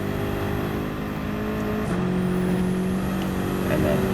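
Race car engine in Gran Turismo 7 at the Nürburgring Nordschleife, a steady loud drone that holds its pitch, briefly dips around a gear shift and then climbs again, with a voice talking over it.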